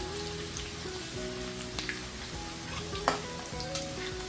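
Garlic frying in oil for a dry bombay duck chutney gives a steady, close sizzle, with a few sharp clicks and pops scattered throughout and no voices.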